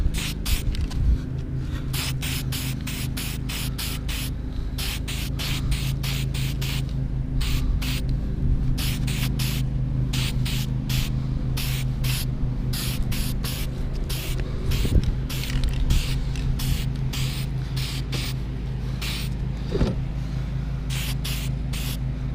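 AutoZone spray paint hisses from an aerosol can onto taped-up car parts outdoors, coming in long rapid bursts of short sprays, close and steady, with a faint low hum underneath.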